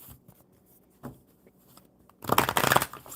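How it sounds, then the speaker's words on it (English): A deck of oracle cards being shuffled, a quiet rustle at first, then a loud, close flurry of riffling cards near the end. "One more good shuffle."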